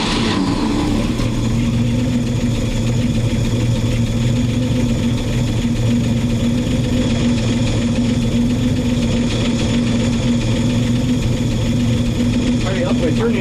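A 1961 Chevy dump truck engine runs at a steady, rough idle close by, a continuous low rumble throughout with a brief rise near the start; a voice is heard faintly over it.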